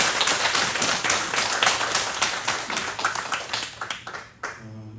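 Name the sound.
congregation clapping in church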